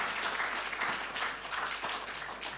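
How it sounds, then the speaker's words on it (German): Audience applause at a cultural conference as a speaker is called to the stage, steady dense clapping filling the hall throughout. "Applaus"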